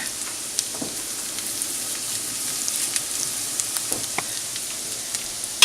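Food frying in a pan for homemade chicken marsala gives a steady, soft crackling sizzle with scattered small pops, close and continuous with no talking.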